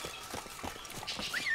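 Roach the horse gallops in The Witcher 3, a quick run of hoof clip-clops over a bright game soundscape, fairly close and steady with a rising whistle-like tone near the end.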